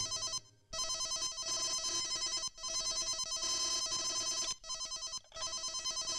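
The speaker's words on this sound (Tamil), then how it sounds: "இன்னொரு பெல் அடிக்குதுங்களே" A telephone bell rings insistently in a Tamil film scene, a loud metallic trilling that repeats in long bursts separated by short silent gaps, with no voices heard.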